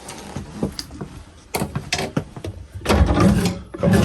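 Drawers in a 2009 Pleasure-Way Excel-TD Class B motorhome slide and knock shut in a quick series of wooden rattles and thumps close by, with a louder rumbling slide near the end.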